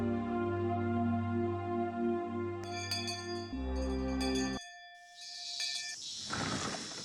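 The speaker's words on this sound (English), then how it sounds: "Finally, we heard the principal's bell ringing." A school bell rings in the visual novel game Higurashi When They Cry, heard as clear ringing tones that shift in pitch over several seconds above a low sustained drone, ending in bright chiming.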